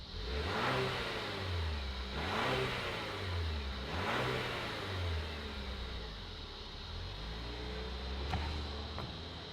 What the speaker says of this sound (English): let's fire it up and see this Enclave roll